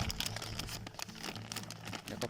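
A plastic bag being folded into pleats around a pair of mangoes, its crinkly plastic rustling close by in a steady stream of crumpling with a few sharper crackles.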